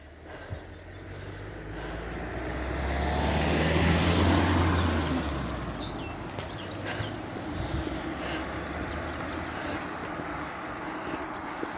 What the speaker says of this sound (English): there's another car coming, so we'll just wait for it